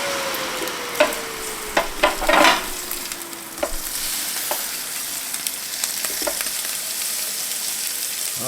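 A chuck roast sears in a hot pan just after being flipped, a steady bright sizzle with a few sharp clanks and scrapes near the start, then even frying alone.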